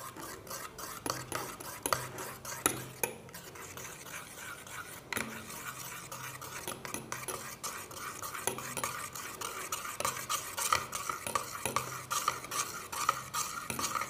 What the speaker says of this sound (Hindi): SLS को ऐड करने के बाद हम इसे मिक्स करेंगे